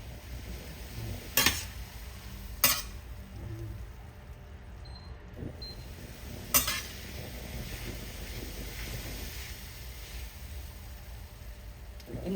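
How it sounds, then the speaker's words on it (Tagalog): Bitter gourd (ampalaya) being stirred in a pan gives a few distinct metallic scrapes and clinks of a utensil against the pan over a faint steady background hiss. "hahaluin ko na po yan"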